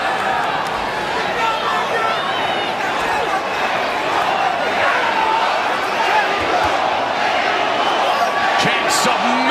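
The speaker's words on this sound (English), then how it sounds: "Chants of Mexico ringing out Monday as Mexican Independence Day weekend." A loud, packed boxing crowd in Las Vegas roars continuously during the Canelo vs Berlanga fight on Mexican Independence Day weekend, with a commentator talking over the dense crowd noise.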